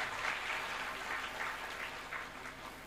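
Applause from an audience at a Hindi-language speech event, steady dense clapping that carries on without break for the whole stretch, moderately loud with no voices over it.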